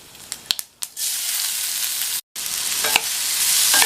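Carrots frying in hot oil with mustard seeds, curry leaves and a pinch of turmeric, a steady loud sizzle broken by sharp spatula stirring clicks and one brief dropout, no talk.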